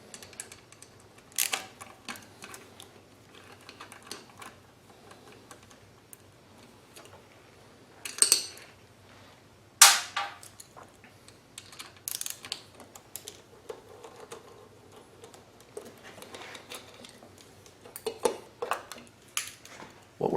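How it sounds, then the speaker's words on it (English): Light metallic ticks and clinks of a 10mm wrench loosening the 6mm valve cover bolts on an inverter generator, with scattered sharp clicks and rattles at close range and quiet stretches between them, no talking. "What we're doing is removing the valve cover so that we can disable the PCV valve that is in the valve cover itself"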